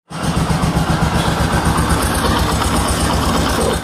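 A motorcycle engine idles at about 1000 RPM during carburettor adjustment, a loud, close, even putter that holds steady for the whole few seconds with no voices.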